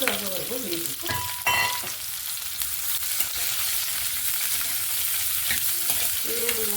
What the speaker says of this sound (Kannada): ಈಗ ಈರುಳ್ಳಿ ಸೇರಿಸಿ ಅದನ್ನು ಕೆಂಪಗಾಗೋವರೆಗೂ ಬೇಯಬೇಕು